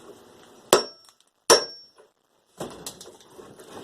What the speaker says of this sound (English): I'm just going to give it a smack.